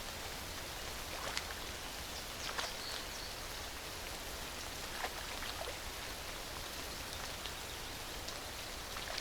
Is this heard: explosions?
no